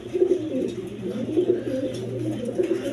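Pigeons kept in a loft for sale call busily, giving continuous low, burbling coos in overlapping rolling phrases, close and fairly loud, with no talking.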